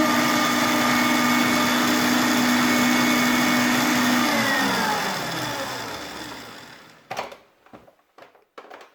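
Electric hand mixer whirring steadily as egg yolks are folded into a finished meringue for chocolate mousse, a loud continuous motor hum that winds down and stops, followed by a few clattering bowl knocks.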